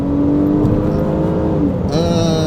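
Mitsubishi Legnum VR4 all-wheel-drive car accelerating hard from a start on city streets, a loud rising engine roar heard from inside the cabin.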